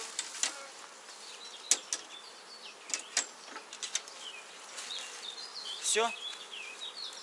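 Honeybees shaken from frames into hive boxes buzz and fly around nearby, a steady insect drone with sharp passes of individual bees, while someone speaks briefly.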